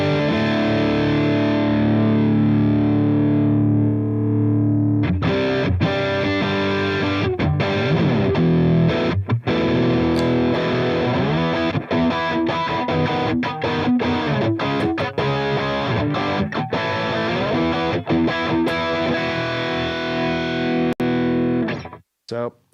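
Electric guitar played through a Headrush MX5 pedal using a custom amp preset with an impulse response, a sustained distorted tone with strummed chords and single-note runs, continuous and loud before a short final stab.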